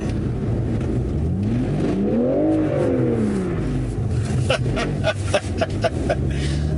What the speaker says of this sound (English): I'm going to go back to 0 and do full throttle